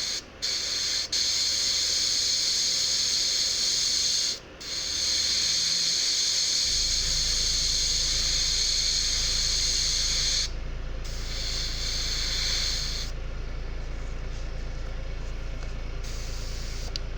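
An airbrush sprays yellow paint onto the feathers of a miniature lizard figure, giving a steady close hiss with a few brief pauses and a low compressor hum that joins partway through.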